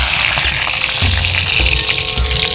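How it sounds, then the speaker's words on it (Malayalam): Mustard seeds and curry leaves hit hot oil in a pan, giving a loud, dense, close sizzle and crackle that stays steady throughout with no talk. "കടുകിട്ട് കൊടുക്കാം. ഇനി അതിലേക്ക് കറിവേപ്പില ഇട്ട് കൊടുക്കാം."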